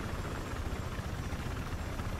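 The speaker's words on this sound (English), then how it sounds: "you just want to get used to flying the helicopters around" A helicopter flies in Battlefield 4, its dense rotor roar and thumping blades filling the whole moment at steady, loud, close range.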